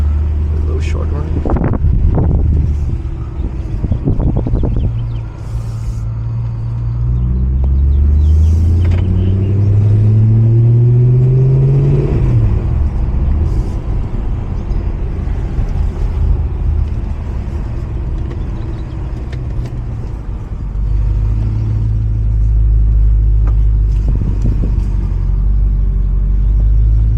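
A supercharged BMW E92 M3 engine drones and rumbles from inside the car on a short run, rising in pitch as it accelerates and then easing off, with steady road and wind noise throughout.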